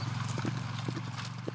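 Ranch horses being driven in from their overnight pasture at dawn, hooves clip-clopping in an irregular scattered rhythm at moderate distance, with a low steady hum underneath.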